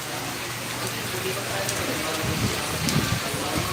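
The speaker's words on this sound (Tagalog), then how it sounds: "malakas ang ulan" Steady broadband hiss of heavy rain in Lucban, Quezon, Philippines, continuous throughout, with a faint murmur of voices underneath toward the end.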